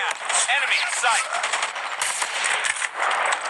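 Sniper rifle and other gunfire in a video game, dense rapid shots and bursts layered over game noise, with a voice talking faintly underneath.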